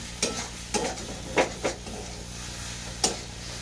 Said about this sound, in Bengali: এমনি আর একটু ভেজে ভেজে নেবো